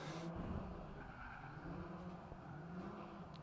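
A drift car skids through a zone at Agassiz Speedway during grassroots qualifying, tires squealing over a wavering engine note, heard from a distance as a continuous, fairly faint roar.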